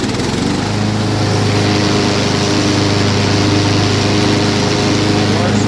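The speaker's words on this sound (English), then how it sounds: "We'll just go ahead and kick our blades on." A Craftsman 42-inch riding lawn mower runs with its blades engaged, giving a loud, steady, close engine drone with a constant low hum that holds for the whole stretch.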